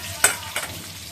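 Cauliflower pieces frying in oil, with two short sizzling bursts, as if stirred, over a low steady hiss.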